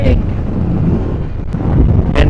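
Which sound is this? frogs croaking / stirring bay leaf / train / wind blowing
wind blowing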